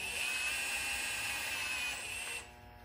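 Power tool spinning bolts out of a Ford SHO 3.5 EcoBoost engine during timing work, a steady high whine held for about two seconds before winding down, close and loud with no talking.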